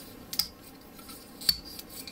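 Brief scraping cuts as leftover plastic is shaved off SD Gundam Age-1 model kit parts, two close, crisp scratches over quiet background.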